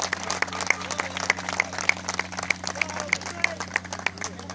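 Scattered applause from a small crowd at a 2014 football tournament awards ceremony, with sparse, uneven claps and a steady low hum underneath.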